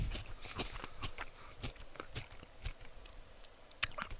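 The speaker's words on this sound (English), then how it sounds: "That crunching noise is veggie straws." Someone munches zesty ranch veggie straws close to the microphone, a rapid irregular run of crisp crunches and bites that goes on steadily.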